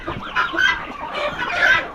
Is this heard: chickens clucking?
yes